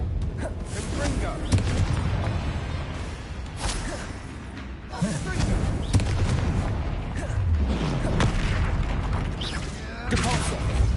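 Confringo spell blasts in the video game Hogwarts Legacy during a fight with an angry troll, repeated booming bursts and pops mixed with other spell effects, loud and continuous under frequent speech.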